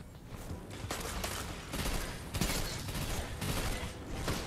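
Shotgun and other weapons firing in Destiny PvP combat: dense, repeated blasts over a constant roar of battle noise, fairly loud and with no talking.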